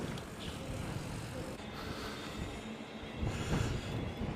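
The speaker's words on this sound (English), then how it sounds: "Parnell train station." A train at Parnell train station rumbles and roars steadily throughout, a dense, continuous wash of rail noise with wheel grind that swells slightly louder near the end.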